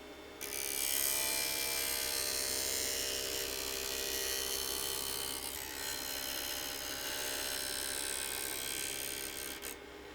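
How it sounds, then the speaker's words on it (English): A plane blade's bevel is ground on a bench grinder to about 35 degrees, giving a steady, loud, continuous high-pitched grinding rasp that runs nearly the whole time without speech. "trace the profile you want and grind to that line. Grind the bevel to about 35 degrees."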